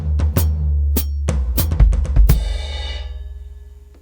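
Drum fill on a worship drum kit with a foot drum subbing into the pattern: a handful of sharp, close hits with deep thuds, ending in a cymbal crash that rings out and fades.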